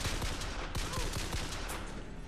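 Rapid bursts of gunfire from a first-person shooter, Bioshock Infinite, crack loudly and densely over a constant roar of game noise, several shots in quick succession.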